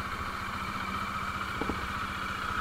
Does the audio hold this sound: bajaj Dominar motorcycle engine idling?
yes